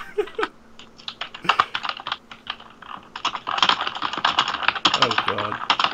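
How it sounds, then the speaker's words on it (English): Furious typing on a computer keyboard during a Dungeons & Dragons session: rapid, uneven bursts of key clicks, close and loud, with brief pauses, while voices talk over parts of it. "Furious typing."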